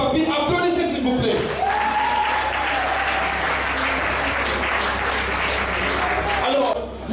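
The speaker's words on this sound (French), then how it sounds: "Applaudissez s'il vous plaît" An audience applauds at a customary ceremony, a dense, loud, sustained wash of clapping that fills the whole stretch, with voices mixed in beneath it.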